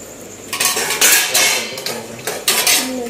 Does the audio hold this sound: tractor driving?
no